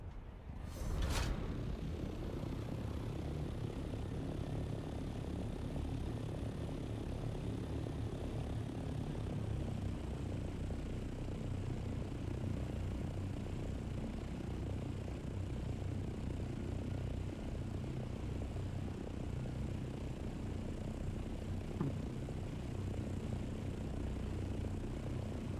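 An ornithopter in a video game flies with a steady, low droning engine hum that holds constant for the whole stretch, preceded by a brief sharp click at the start.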